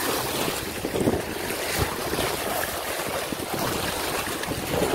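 Wind and surf roll steadily along a rocky beach in Florida, a continuous broadband roar of breaking waves mixed with gusty wind buffeting the microphone, loud and unbroken throughout.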